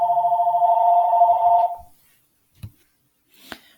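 A telephone rings nearby in a loud, warbling electronic trill that stops after about a second and a half, followed by a couple of brief handling knocks in the quiet.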